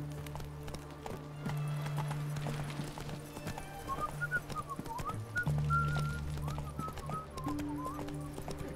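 Hooves clip-clop from a horse ridden in The Witcher 3: Wild Hunt, steady and fairly close over game music and ambient sound, with a whistle-like tone partway through.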